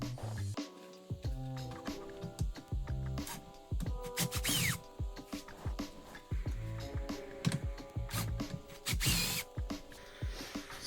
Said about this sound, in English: So we've got 3 tiny little screws underneath there. They're 7 millimeter. So I'm just going to pull those out.